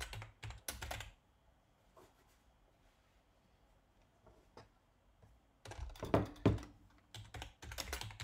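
Bursts of quick, light clicking on a computer keyboard as login details are typed, close and fairly quiet, with a long near-silent gap between the opening and closing runs of keystrokes.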